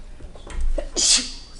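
A single sharp sneeze bursts out after a brief breath intake, close and loud, with faint room noise around it.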